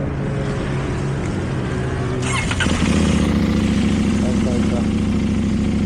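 A KTM Duke 790 motorcycle engine runs loud and close throughout, its steady throbbing growl shifting in pitch midway as it revs, with someone speaking briefly over it.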